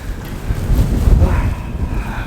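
Wind gusting outdoors on a snowy day at about two degrees, a rough low roar buffeting the microphone steadily throughout, with no voices.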